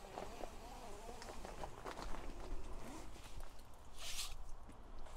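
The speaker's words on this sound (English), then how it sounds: "So the zips are YKK. They're really smooth." YKK zippers on a Helinox tent are pulled open, giving soft, close zipping and rustling strokes over faint fabric handling, with no talk.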